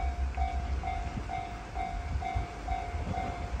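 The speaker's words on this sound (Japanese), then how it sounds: "キハ110系でしょうか、" A KiHa 110 series diesel railcar rumbles steadily nearby with a low engine drone and faint repeating tones, no voices.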